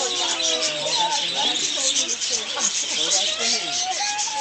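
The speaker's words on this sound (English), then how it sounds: "Yeah, birds. I'm chilling with the parakeets." Parakeets at a zoo chirp and tweet continuously in a busy, overlapping chorus of short calls, fairly close, with a constant hiss in the background.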